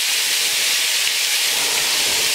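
Minced meat frying in a pan for browning gives a steady, dense sizzle that hisses evenly and without pause from start to finish.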